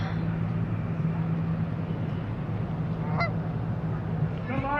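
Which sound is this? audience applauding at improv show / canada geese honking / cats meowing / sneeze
canada geese honking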